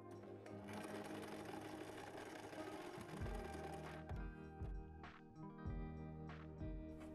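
A sewing machine stitches an elastic band onto a fabric book pouch, a close steady whirring run that shifts into a rhythmic, pulsing stitch pattern near the end, with no talking.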